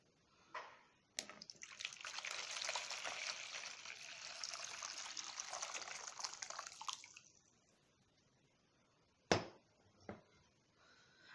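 Hot water is poured into a basin for a hand and nail soak, a steady splashing stream lasting several seconds, close and fairly quiet, followed by a few sharp knocks.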